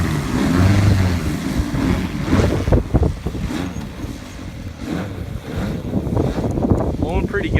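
Strong wind at an RC airfield roars across the microphone in heavy gusty rumbles throughout, loud and continuous, with someone talking underneath.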